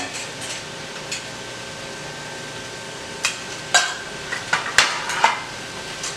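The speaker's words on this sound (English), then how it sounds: "I tend to just cook the onions down just until they're about translucent" Onions soften in a pot for clam chowder over a faint, low simmering hiss, broken by scattered clinks and scrapes of a utensil against the pot that grow more frequent toward the end.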